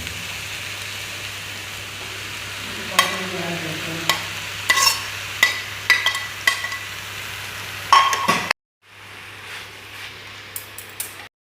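Chicken and curry leaves frying in a pan for a meat pathiri filling, with a steady close sizzle and repeated scraping and clacking stirring strokes, then a brief silence before the sizzle resumes more quietly.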